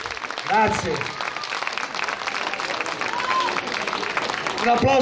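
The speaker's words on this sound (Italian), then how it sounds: "Un applauso anche a lui" Applause from an audience at a town festival, with a crowd clapping under loud voices and music-like tones, swelling at the start and again near the end.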